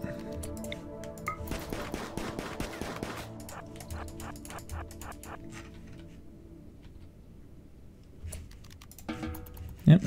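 Rapid bursts of small-arms gunfire from a RimWorld colonist shooting at a Mega Scarab, a dense volley of sharp cracks in the first few seconds, then sparser isolated shots over a low steady hum, with a louder thump at the end.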